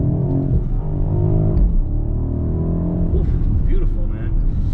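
A BMW 760i xDrive with a 4.4-litre twin-turbo V8, set to Sport Plus, downshifts aggressively. A loud, droning engine note rises in pitch with rev blips as it shifts down.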